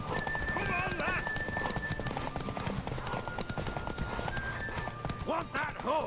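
A horse in The Witcher 3 gallops with rapid clip-clop hoofbeats and neighs several times, loud and close, over game music and voices.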